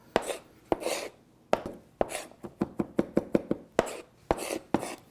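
A knife chops quickly on a cutting board, sharp rhythmic thwacks in bursts, some close together, others spaced out, close and clear with no voices.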